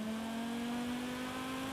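A car engine in the racing game Forza Horizon 5 holds a steady, sustained drone with a clear tonal hum that rises slightly in pitch, heard alone at moderate loudness.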